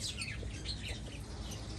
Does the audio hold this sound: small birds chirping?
yes